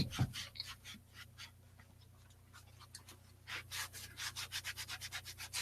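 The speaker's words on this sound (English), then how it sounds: "I'm going to take my magic eraser. You can use a scrub brush, whatever, and just start working it in." A magic eraser rubs a baseball cap in quiet, close scrubbing strokes that start sparse and settle into a quick, steady rhythm near the end.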